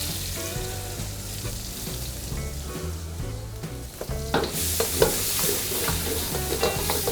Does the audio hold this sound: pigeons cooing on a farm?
no